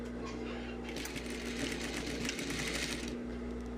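A sewing machine topstitching the seam of a trouser zipper, a continuous rapid whirring stitch with a steady low hum, growing a little busier midway before easing off.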